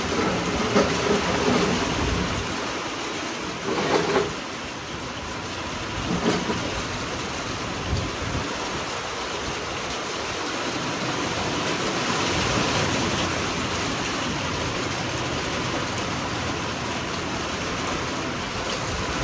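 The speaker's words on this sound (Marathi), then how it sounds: "आला रे, आला पाऊस रे" Steady rain pours down across a farm, a broad continuous hiss that holds at an even, fairly loud level throughout with no talk.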